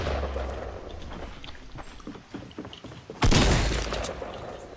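Enemy gunfire in the video game Fortnite: scattered sharp shots through the first seconds, then a sudden loud, close blast that rings out and fades.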